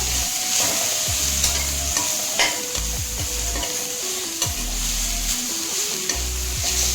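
Tomatoes frying with Bangalore brinjal curry in a pan, a close, continuous sizzle with repeated stirring scrapes and spoon knocks, and no voices.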